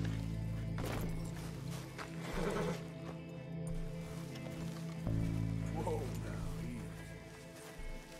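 Horse in a video game: steady clip-clop hoofbeats with an occasional snort or whinny over a constant low game rumble, fairly close, with someone talking at points.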